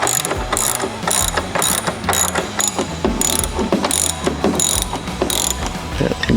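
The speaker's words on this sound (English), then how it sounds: "With the 9/16, go ahead and remove the OEM screws here." A ratchet wrench with a 9/16 socket clicks in quick repeated bursts while backing out OEM screws on a Harley-Davidson Touring motorcycle, close and loud with short pauses between strokes.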